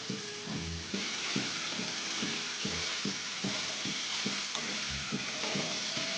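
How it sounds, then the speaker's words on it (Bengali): Chopped vegetables with green chillies and salt sizzle in hot oil in a wok while a spatula scrapes and clanks against the metal in a steady rhythm, close and continuous. "নুন দিয়ে নেড়ে চেড়ে ভাজতে লাগলাম।"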